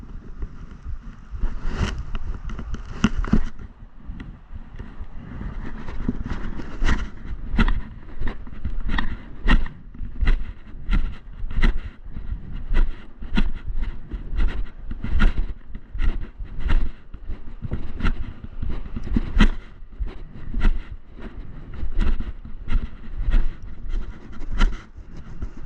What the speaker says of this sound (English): Yeah, I think the wind's picking up just a little bit.